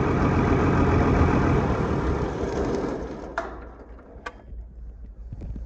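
An Isuzu 6BG1 6.5-liter diesel engine idles with a steady, loud low rumble, then winds down and goes quiet, leaving a couple of sharp clicks and faint background noise.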